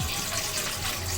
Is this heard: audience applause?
no